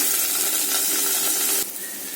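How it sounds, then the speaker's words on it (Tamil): Vegetables sauté with a little salt in a pan, a close, bright frying hiss that drops to a quieter sizzle partway through. "நல்லா வதங்கட்டும்."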